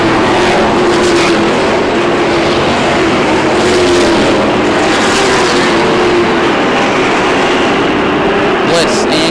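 Late model stock cars race at Lake Erie Speedway during the MAARA 100, a dense, continuous engine roar from the pack filling the whole stretch, with a commentator talking over it.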